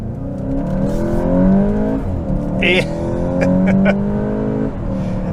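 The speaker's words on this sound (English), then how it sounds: "I'm just gonna hammer the gas here" A 2022 VW Golf GTI Mk8 engine revving hard from a stop and climbing through gears, loud and close, with the pitch rising and dropping at shifts under light background noise.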